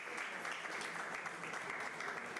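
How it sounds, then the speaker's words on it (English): Faint but steady crowd applause rolls through a youth festival venue, an even wash of clapping with a low rumble underneath and no voices. "Please, a big round of applause."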